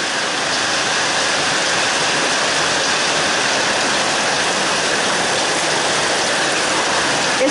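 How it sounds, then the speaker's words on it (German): Heavy summer downpour pouring steadily over a rural garden and field, a dense, even broadband rush of rain that stays loud and unbroken throughout with no voices. "Platzregen."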